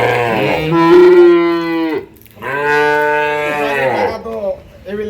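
Cows and calves mooing at a dairy farm: two long, loud, drawn-out moos close by, separated by a brief pause, with a shorter call starting at the very end.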